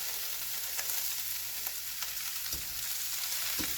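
Risotto rice toasting in melted butter in a pan, a steady bright sizzle with occasional scrapes and stirring clicks from a utensil, close and continuous with no talking.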